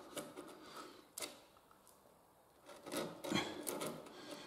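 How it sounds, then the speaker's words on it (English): Gentle chisel work cutting a recess in a wooden door frame for a tubular mortice latch keep: soft, intermittent scraping and rasping strokes, quiet and close, with a stronger burst near the end. "I just very gently just chisel that out."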